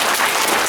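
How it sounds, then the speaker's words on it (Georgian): Kindergarten children applaud together in a group, a dense, steady burst of many small hands clapping close by, filling the whole short moment without talk. "მოდი ტაში დავუკრათ"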